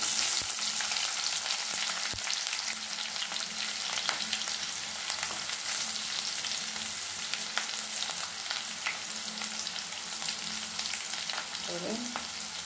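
Garlic and onion sizzle steadily in a hot pan while moringa leaves and toor dal are fried, a dense continuous crackle with occasional stirring scrapes, close and fairly loud throughout with no voices.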